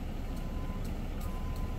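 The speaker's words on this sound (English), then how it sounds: "that high rail truck is backing up down here" A high rail truck backs up along a railway track, its backup alarm beeping about four times in a steady rhythm at a moderate distance over a constant low engine rumble.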